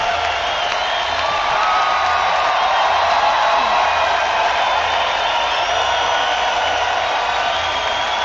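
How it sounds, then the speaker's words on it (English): Sustained audience applause and cheering at a charity band premiere show fills the room evenly, with a steady wash of claps and crowd noise at constant loudness throughout. "Give yourselves another round of applause."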